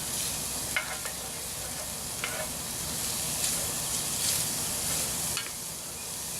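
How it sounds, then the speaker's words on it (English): Onions and other ingredients for a homemade meat sauce frying in a pan on an off-grid stove, a steady sizzle with occasional spatula stirring and scraping, close and alone without talk. "As you see, we're frying it all up."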